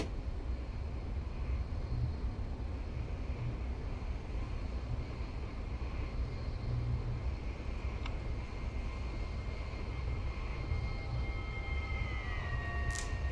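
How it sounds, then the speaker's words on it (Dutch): An NS VIRM electric train in Train Simulator 2015 accelerates at full throttle, a quiet steady rumbling drone with a faint whine rising near the end. "nu kunnen we het gas er eindelijk eens opgooien dan"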